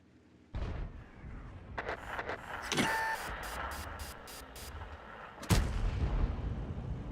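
An airstrike and artillery barrage in the Front Line war game: sharp explosive blasts and booming impacts strike repeatedly at irregular intervals, with a large crack near the end, over continuous rumbling battlefield noise.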